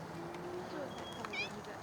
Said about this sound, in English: little cat. Messing up my car.